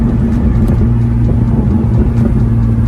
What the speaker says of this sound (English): this car has factory burbles. It sounds good.